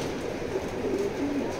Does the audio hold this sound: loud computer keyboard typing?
no